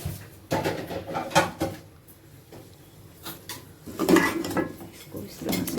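Metallic clanks and scrapes of a pot and utensils, with a sizzling burst of hot oil as a spice tempering is poured into radish, potato and cucumber curry, close by and moderately loud.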